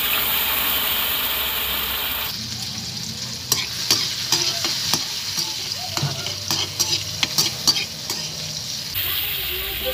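Garlic, onion and tomato sauté in a pan with a steady sizzle, broken by repeated scraping and clinking as a utensil stirs the pan, all heard close and without talk.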